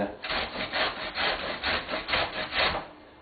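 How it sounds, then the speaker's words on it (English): Green papaya is shredded on a fine grater with steady rhythmic back-and-forth rasping strokes, about seven scrapes in a row, close and moderately loud, with no voices. "So we're just going to just shred it on the fine grater"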